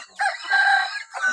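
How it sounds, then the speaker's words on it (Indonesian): A kampung chicken rooster crows loudly and close, a drawn-out cock-a-doodle-doo followed by the start of another call. "Ini ayam kampung guys."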